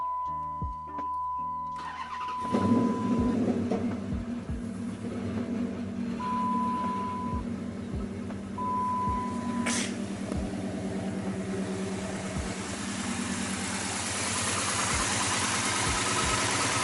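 A Mopar V8 engine cranks briefly and catches, then settles into a steady, slightly lumpy idle that runs on, close by in a shop.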